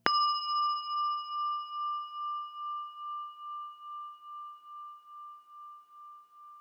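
A single bell struck once, its clear ringing tone sustained and slowly fading with a gentle pulsing shimmer over several seconds.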